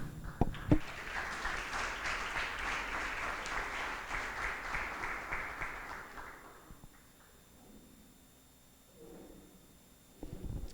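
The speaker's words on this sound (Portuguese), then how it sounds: "dê um aplauso ao Senhor" A church congregation breaks into applause, with dense clapping that lasts about six seconds, fades away to near quiet, and ends with a brief bump of sound.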